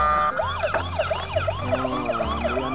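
A toy ambulance is switched on and its electronic siren starts, a looping wailing tone that repeats quickly under a low motor hum, close and clear.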